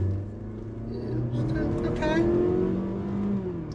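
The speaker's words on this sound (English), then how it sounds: "It revs high. Mazdas do like to rev pretty high." Engine of a Mazda CX-50 at high elevation revving as it accelerates from a standstill, the pitch climbing steadily while someone talks over the cabin drone.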